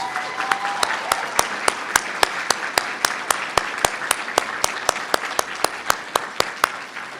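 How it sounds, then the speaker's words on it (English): A school awards-night audience applauds faculty and staff, with steady rhythmic clapping that becomes evenly paced, close and crisp, and a low murmur of voices beneath. "Could we give them another round of applause?"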